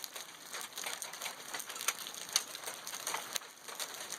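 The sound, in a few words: hail falling and bouncing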